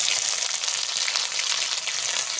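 Bay leaf, dried red chili, five-spice seeds, cumin and ginger paste fry in hot oil for a Bengali moong dal with taro, giving a steady, close, bright sizzle that holds evenly throughout with no talking.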